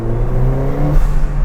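A Ford Fiesta ST with a backbox and resonator delete and an induction kit drones loudly from inside the car, a deep steady engine and exhaust tone with shifting pitch as it pulls.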